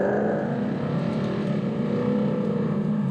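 Lamborghini Gallardo with a 500-horsepower engine and loud exhaust, revving and accelerating through curves, a steady close droning roar holding for about three seconds with no talk.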